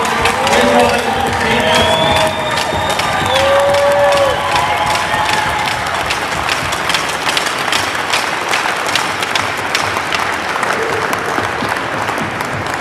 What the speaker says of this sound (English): Hockey fans, please help me give Dave a well-deserved round of applause, as tonight he is officially inducted as the